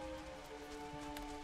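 Rain pattering steadily in Final Fantasy XIV, a soft even hiss of drops over a river and creek near a bridge, heard faintly alongside sustained tonal game music.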